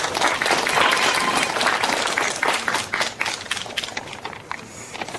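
An audience at a Korean literary award ceremony applauds to welcome a prize winner, a dense wash of clapping that is loud at first and then gradually thins and fades.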